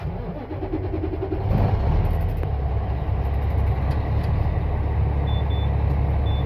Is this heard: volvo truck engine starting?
yes